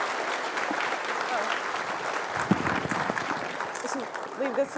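An audience at a tech conference talk applauds steadily throughout, a dense wash of clapping from a crowd, with a voice briefly heard over it.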